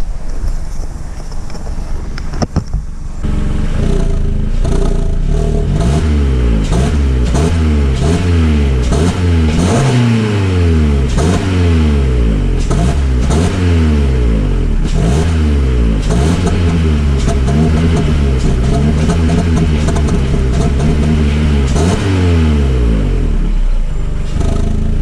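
A car engine revs loudly and repeatedly, rising and falling in pitch in steady waves, with wind buffeting the microphone.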